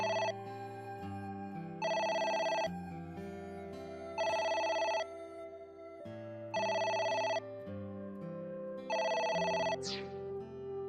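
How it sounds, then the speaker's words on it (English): Telephone ringing in the video game AI: The Somnium Files, four loud, regular bursts of electronic ringing spaced evenly over sustained background music, with no talking. "Oh, It's the phone."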